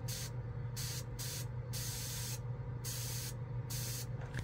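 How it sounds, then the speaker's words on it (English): An airbrush fed by a cheap tank-style air compressor hisses in repeated bursts, the trigger pressed and released about five times, close up over a steady low compressor hum. "So watch this when I press the airbrush in."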